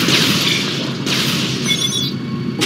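Missile explosions rumble in the space combat game Rebel Galaxy, a continuous low roar of impacts with a brief sharp burst near the end, loud and close.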